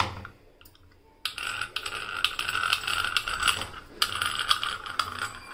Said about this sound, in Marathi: आता आपण हा साचा झाकण लावून घेऊयात साच्याचं।